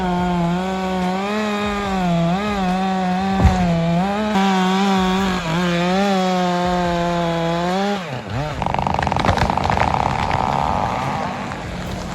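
A chainsaw engine drones loudly and steadily, revving up and down, then bites into giant timber with a harsher, grinding cutting roar, cutting around a mud-stuck bulldozer.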